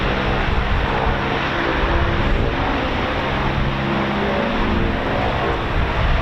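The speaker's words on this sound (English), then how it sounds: "it was the Eurofighter" A Eurofighter Typhoon FGR4 jet at RAF Coningsby produces a loud, continuous, broadband roar that holds steady from start to finish.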